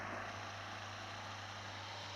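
A transport airplane flying in the PUBG Mobile video game gives a steady, continuous engine drone that fills the whole moment at an even level.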